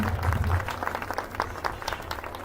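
Audience applause at a school annual day, rewarding students after a yoga asana performance: steady, dense clapping from a hall crowd, fairly loud throughout and easing slightly toward the end.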